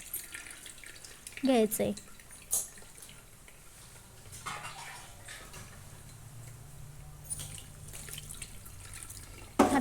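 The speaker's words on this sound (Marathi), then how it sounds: "हाताला गरम लागणार नाही म्हणून थंड पाणी टाकलेलं आहे मी इथे." Cold water poured over boiled safflower (kardai) greens in a pot, with faint splashing and trickling bursts, a brief spoken word and quiet background noise.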